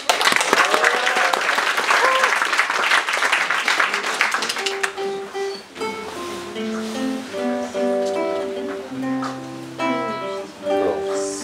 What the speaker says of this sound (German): Gib uns Klatschen!